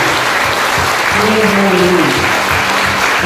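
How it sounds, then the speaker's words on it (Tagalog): Church congregation clapping steadily and loudly throughout, a dense wash of applause with a faint sung or spoken voice rising briefly over it. "pwede po bang pumalakpak ngayon?"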